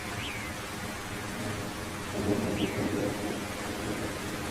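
Cartoon rainstorm with steady rain hiss throughout and a low thunder rumble swelling midway, no talking.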